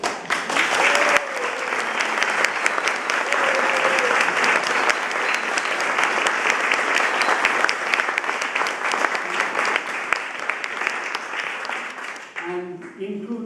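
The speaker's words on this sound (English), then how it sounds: "I would like to offer a very hearty applause of appreciation to Dr. Saul Katz and Dr. Patricia Bennett." Sustained, loud audience applause at a conference welcome session, dense clapping for the co-chairs that holds for about twelve seconds before thinning out at the end.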